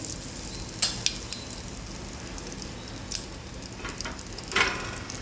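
Asafoetida (hing) hits hot oil for a Gujarati mixed dal, giving a steady close sizzle and crackle with a few sharper pops throughout, and no talking.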